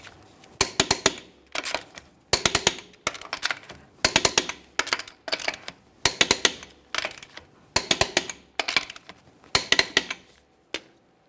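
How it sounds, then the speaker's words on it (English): Lug nuts on a 2015-2020 Ford F-150 wheel are torqued to 150 foot-pounds. Close, sharp clusters of clicking ratchet bursts repeat about a dozen times, each separated by a brief pause. "Let's torque these in a crisscross manner to 150 foot-pounds."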